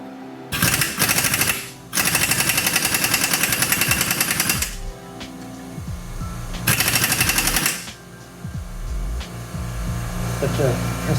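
Air tools rattle in loud bursts during front strut removal on a 2007-2011 vehicle, followed by a compressor running quietly to refill, with scattered clanks between the bursts.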